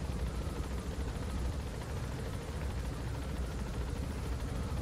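Helicopter in the video game Metal Gear Solid V, a steady, loud rotor and engine drone with dense low-end thumping that holds unchanged throughout, with no talk.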